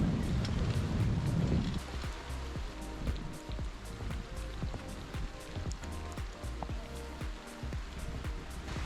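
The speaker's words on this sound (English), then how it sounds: "To be honest, I'm actually loving riding in the rain." Rain patters on surfaces during an outdoor ride on Castaway Cay, a dense, steady spatter of drops with gusty wind noise, loudest in the first two seconds and then evening out.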